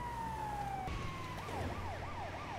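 Wailing ambulance siren in the GTA V video game, a steady sweeping tone that shifts into rapid up-and-down yelps, loud and continuous over a constant engine and road rumble.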